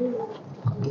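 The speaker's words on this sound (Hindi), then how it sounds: "ये सब गर्दान का कबूतर है भाई रामजाने के" Garden pigeons coo at a Sunday market in a brief, soft, close call, with voices mixed in.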